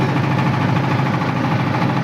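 A motor boat's engine drones steadily and loudly on a river trip, a constant close mechanical hum with a slight rhythmic throb and no break.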